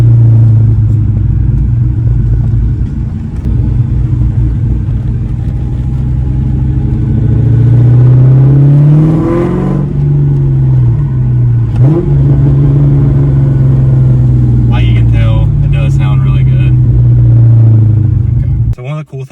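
A New Edge Mustang with an off-road X-pipe and boreless Stinger catback exhaust idles with a deep rumble, then revs up loudly and settles twice, close and dominant throughout.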